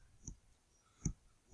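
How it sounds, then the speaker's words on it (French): Three separate calculator key presses, each a short soft click, fall at uneven intervals with quiet between them. "si je tape à la calculatrice"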